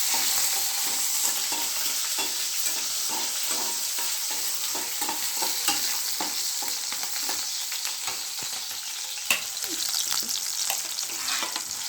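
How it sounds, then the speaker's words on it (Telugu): Onions deep-frying in hot oil in a pan for a ridge gourd curry, a steady loud sizzle with soft stirring scrapes throughout, no voices. "ఆనియన్స్ అయితే వేసేసాము. అవి కొంచెం డీప్ ఫ్రై అయిన తర్వాత టమోటాస్,"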